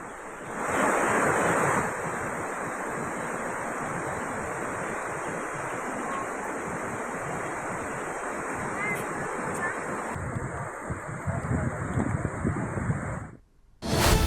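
Dhanushkoti Falls roars in heavy monsoon rain in Maharashtra, a steady, dense wash of falling water that continues for the whole stretch, with a wind-buffeted rumble at the start and end.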